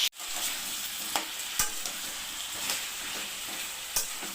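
Kohlrabi stirred and frying in a pan gives a steady sizzle for about four seconds, broken by a few sharp clicks of a utensil against the pan.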